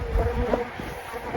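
A soft honeybee buzz hums steadily close by at a hive for a moment, with faint low rumbling underneath and no voices.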